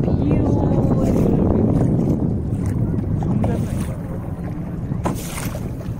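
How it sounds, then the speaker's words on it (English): A kayak is paddled on wavy, windy Lake Tahoe, with loud wind buffeting the microphone over water wash and occasional paddle splashes. "we're kayaking, and the lake is quite wavy today"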